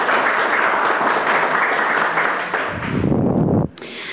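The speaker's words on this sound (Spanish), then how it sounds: "La recibimos con un fuerte voto de aplausos." Audience applause at a university medical conference in Peru, steady and full for about three and a half seconds before ending abruptly, followed by a brief quieter tail.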